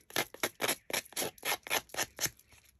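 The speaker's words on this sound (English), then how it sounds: "Then I'm going to take my little scissors." Small scissors snip paper from junk mail envelopes repeatedly in a quick, even rhythm, about a dozen crisp close cuts with no talking.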